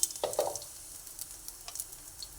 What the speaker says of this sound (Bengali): এর মধ্যে আমি অল্প পরিমাণে সাদা জিরে দিয়ে দিলাম